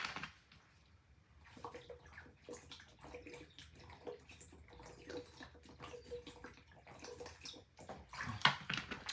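Water runs and splashes faintly in uneven bursts, quiet and intermittent, with gurgling and sloshing spread over several seconds.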